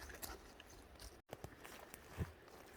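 Outdoors in a swamp, a dog gnaws on sticks, giving soft, faint crunching bites and chewing sounds over a hissy background.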